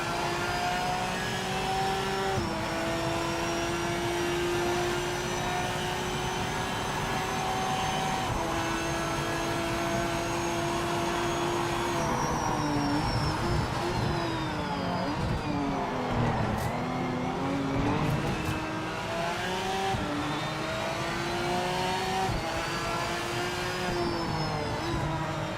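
A race car engine in the Project Motor Racing video game drones steadily, its pitch climbing through the gears, dropping on downshifts and rising again, loud and continuous with no talk.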